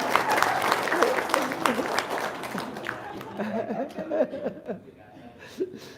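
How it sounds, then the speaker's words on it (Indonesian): Late-night gathering audience claps for a couple of seconds, then the clapping gives way to chuckles, laughter and chatter from the group. "Tepuk tangan dong."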